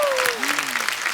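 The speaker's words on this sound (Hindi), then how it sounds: "तो एक बार जोरदार तालियां नीतू जी के लिए और रिद्धिमा के लिए" A studio audience claps loudly and steadily for Neetu Kapoor and Riddhima on a TV show stage. The applause is dense and continuous for just over a second, with a sliding tone running faintly over it.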